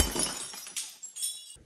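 A glass flask bursts from steam hammer pressure in a close, sharp shattering crash, followed by a couple of smaller tinkling breaks as fragments fall, with no talk.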